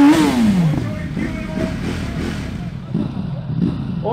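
A Yamaha R1 and a Ducati Streetfighter V4 race at a drag event, engines revving and roaring close by under a loud announcer's commentary, one rising then falling whine at the start.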